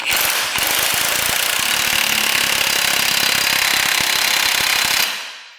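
Impact wrench hammering a bolt up to over 350 foot-pounds of torque, a loud, rapid, continuous rattling burst of roughly five seconds that stops abruptly, close to the microphone with no talking.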